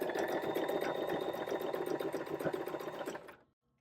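A JOANN beginner sewing machine running a big zigzag stitch, with a continuous close motor whir and fast rhythmic needle chatter for about three seconds before it winds down and stops.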